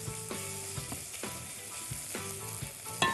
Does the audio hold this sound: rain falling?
no